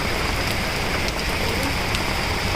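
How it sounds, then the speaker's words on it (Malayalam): Heavy rain pours steadily near a small roadside shed close to Athirappilly Waterfalls, a dense, unbroken hiss of drops with no talking. "നല്ല മഴ, അവിടെ ഒന്നും കാണാൻ പറ്റുന്നില്ല."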